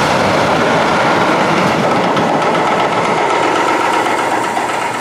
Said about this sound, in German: Züge.